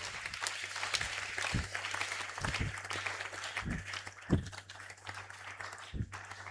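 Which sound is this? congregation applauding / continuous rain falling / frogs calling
congregation applauding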